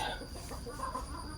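A mixed flock of hens and roosters clucks softly at close range on a farm, the low, steady chatter continuing without pause and no voices over it.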